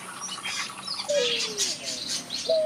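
Finches in a huge aviary: several small birds chirp and tweet in quick, overlapping calls, with a few clear rising and falling notes over a steady background of bird chatter.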